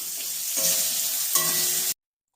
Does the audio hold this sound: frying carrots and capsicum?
yes